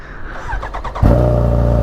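A Kawasaki Ninja H2 sport bike with no exhaust system fitted bursts into a loud, raw engine roar after a short rising whine, then holds a steady, harsh idle close up.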